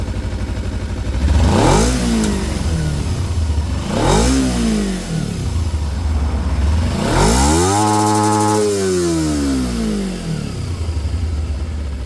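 A Kawasaki motorcycle engine starts and revs hard three times in succession, each burst rising and falling in pitch, with a steady idle rumble between, close and loud.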